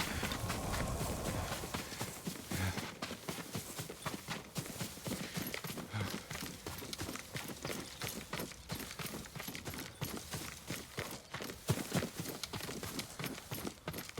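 Horse hooves clop steadily on the ground throughout a stretch of Ghost of Tsushima gameplay. The beat is quick and continuous with a running rhythm, moderately close and fairly quiet, and no one speaks.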